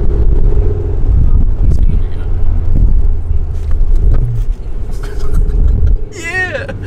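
A car engine roars loudly and revs during a heel-toe downshift while driving, rumbling under wind noise and an overlapping voice, with a brief rising whine near the end.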